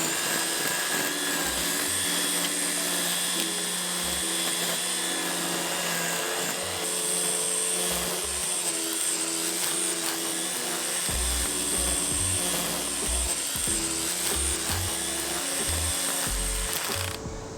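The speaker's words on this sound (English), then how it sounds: "The first official test for this trimmer, weed eater, whatever you want to call it" A Ryobi 40V brushless string trimmer runs with a continuous high motor whine, loud and close, broken by occasional thumps and rises in pitch as it works.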